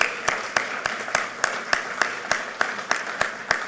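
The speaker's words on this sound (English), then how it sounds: "Give them a big round of applause." Audience applause for construction workers at a political event celebrating a new data center, with steady clapping from a crowd and a few sharp, evenly spaced claps standing out above the wash.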